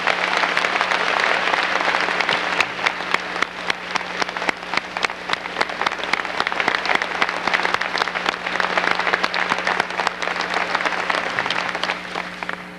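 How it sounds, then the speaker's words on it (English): Sustained audience applause fills a conference hall at the 1997 National Urban League conference, dense steady clapping from a large crowd holding an even level throughout with no talk over it. "Please give her a rousing round of applause."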